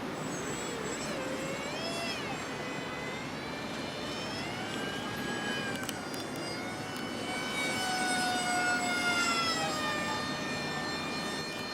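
A radio-controlled FPV glider plane flies in the wind, its motor giving a thin, whining tone that rises and falls in pitch as it turns, heard steadily at a moderate distance over wind noise.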